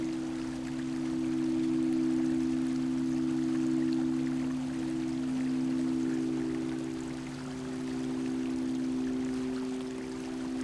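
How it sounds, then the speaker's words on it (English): Steady, gentle flowing water runs throughout, with a constant low hum underneath and no voices. "Watch as the water is flowing."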